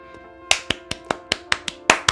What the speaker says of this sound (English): I clap for you. I clap.